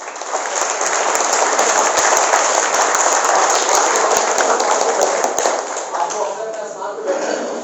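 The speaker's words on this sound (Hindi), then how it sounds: "आप लोगों के लिए आप जोरदार ताली बजाइए" Loud, dense clapping from a seminar audience at a Mount Abu club event, sustained for several seconds and then thinning at the end.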